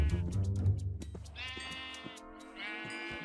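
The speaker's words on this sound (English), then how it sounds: "I can see a brown sheep, this is good." Sheep from the video game Minecraft bleat in a few wavering calls, one after another, over a low rumble and clicking game sounds, with no talking.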